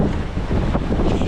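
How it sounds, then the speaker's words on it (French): Strong wind buffeting a sailboat at sea at night on the crossing to the Bahamas, a loud roaring rush with wind hitting the microphone and waves surging underneath, with no voices. "Il y a beaucoup de vent, peut-être plus que ce qu'on aurait pensé."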